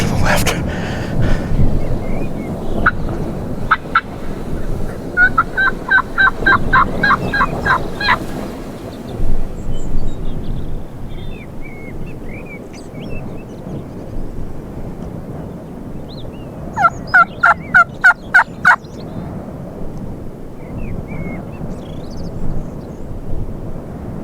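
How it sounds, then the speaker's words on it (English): Wild turkeys gobble outdoors during spring turkey season, several gobbles carrying from a moderate distance in rapid rattling bursts over quiet field ambience, with low murmured talk nearby. "The hen's up there right above you. The gobblers are to the right."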